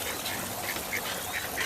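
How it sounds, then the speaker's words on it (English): Ducks quack at a park pond with lily pads, several short nasal calls scattered irregularly over a steady outdoor hiss, moderately near and fairly quiet. "Yeah, and the ducks."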